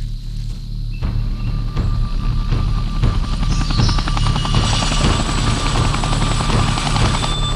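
A helicopter arrives for a pickup in the Panamanian jungle, its steady rotor thump and engine drone loud and continuous throughout, growing fuller as it draws nearer.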